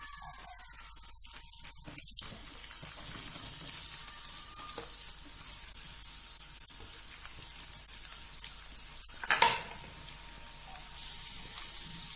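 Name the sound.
chicken frying in oil with garlic ginger paste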